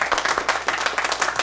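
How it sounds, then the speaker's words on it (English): Brief burst of applause from a live comedy theater audience in Charlotte clapping for themselves, a dense mix of many hands, fairly close and steady, with no talking over it. "Round of applause for yourselves for that."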